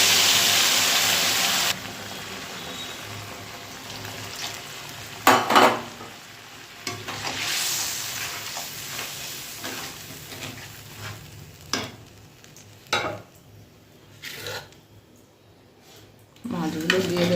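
Mustard and poppy seed spice paste fries over fried potatoes in a pan for a pabda fish curry. A steady sizzle runs throughout, broken by several sharp scrapes and clatters of a spatula stirring against the pan.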